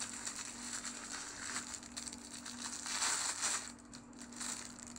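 A rolled-up mouse pad package being unwrapped by hand, plastic wrapping crinkling and crushing in close, continuous rustles with a louder burst near the end and a quieter pause before resuming.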